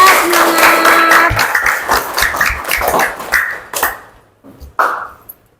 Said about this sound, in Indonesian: Iya, tepuk tangan ya, semangat.